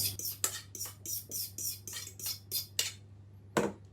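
A utensil mashes ripe bananas in a bowl for banana blueberry muffins, making about ten rhythmic clinks against the bowl at a brisk, even pace, then a final louder knock, up close with no talk.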